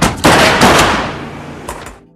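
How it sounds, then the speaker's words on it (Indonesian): Several gunshots in a gangster action film, a few loud sharp blasts close together, each trailing off in a reverberant decay. "Tak lama kemudian terdengar suara beberapa tembakan."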